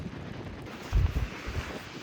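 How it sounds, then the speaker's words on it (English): Strong wind gusting outdoors at Dream Lake in Rocky Mountain National Park in winter, a steady low rumble buffeting the microphone with a heavier gust near the middle, no voices. "And it is so windy out."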